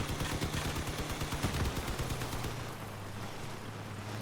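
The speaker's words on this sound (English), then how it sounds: "I'm gonna try and shoot this guy down." Rapid bursts of gunfire from the vehicle combat game Crossout ring out in quick succession, loud and continuous, with a low engine drone running underneath throughout.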